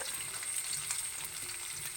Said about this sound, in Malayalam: തേങ്ങാക്കൊത്തും കട കടു വറുത്തൊക്കെ മൂത്തു